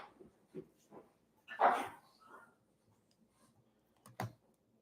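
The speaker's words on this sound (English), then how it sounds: "my dogs are fighting" A few short yelps and snarls from dogs fighting, breaking out in scattered bursts with one louder scuffle in the middle and a sharp cry near the end, heard at a moderate distance in an otherwise quiet room.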